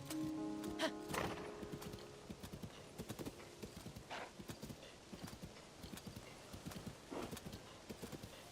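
Horse hooves clip-clopping and a whinny in the video game Zelda Tears of the Kingdom, faint and irregular steps with an early neigh, fairly quiet throughout.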